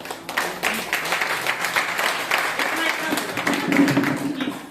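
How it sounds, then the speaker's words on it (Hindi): An audience at a gathering claps in thanks, a dense, somewhat uneven patter of hands with rising and falling intensity, while a voice talks faintly underneath. "उनके नाम की तालियां करना।"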